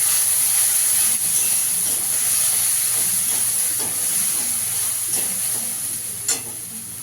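A paste of ground mustard, poppy seed, ginger and green chili sautés in a hot pan, a continuous close sizzling hiss with soft scraping stirs and a faint tap near the end, no speech.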